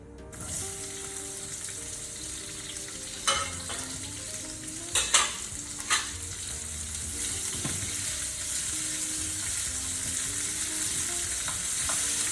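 Onions fry in a pan with chilies and bay leaves, giving a dense, steady sizzle that builds slightly over time, with a few clattering stirs near the start, close and continuous with no talking.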